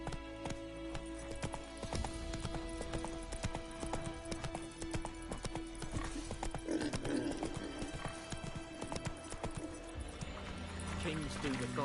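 Rhythmic clip-clop of the horse Roach galloping in The Witcher 3 game, steady hoofbeats throughout with a brief whinny, under game music and occasional voices.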